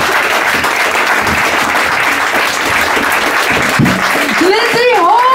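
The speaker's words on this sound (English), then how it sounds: "a round of applause for John as well" A comedy show audience bursts into loud, sustained applause, close and dense, with a raised voice and a rising whistle or cheer breaking through near the end.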